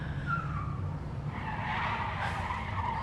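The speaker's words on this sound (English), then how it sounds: "That was a car tire." A car tire skids in a film scene, a harsh broadband screech that swells midway and holds loud to the end over a steady low rumble.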